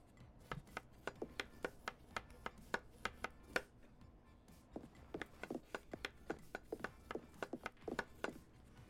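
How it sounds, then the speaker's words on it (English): Onions being diced with a knife in the restaurant simulator game Chef's Life, a steady run of crisp chopping taps, roughly regular with a brief pause midway, quiet and close. "Make diced onions."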